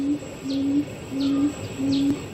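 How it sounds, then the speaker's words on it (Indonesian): Mysterious bird call attributed to a three-toed quail: a repeated low steady hoot sounding four times at an even pace, each note paired with a faint higher sweep, clear and fairly close. "kemungkinan ini adalah suara dari burung puyuh berjari 3."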